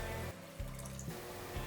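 Water poured into a cooking pot while making egg pulao, a short splashing fill with dripping trickles, close and faint with no speech.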